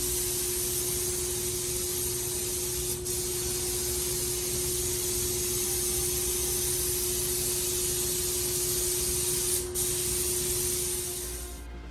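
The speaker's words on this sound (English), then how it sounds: "I don't stop my spraying stroke on a seam" A spray gun hisses continuously and loudly while painting a car, a steady broad spray with a faint tonal whine that fades out near the end.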